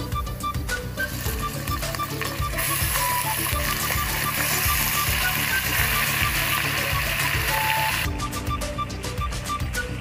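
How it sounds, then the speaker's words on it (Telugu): Chicken pieces sizzle and fry in a pan of browned onions for a Telugu-style chicken curry, a loud continuous crackling hiss with a brief shift near the end. "ఇప్పుడు చికెన్ వేసుకుందాం."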